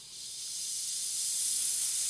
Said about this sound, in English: So now with the plunger down, I'm gonna crack the bleed off valve open.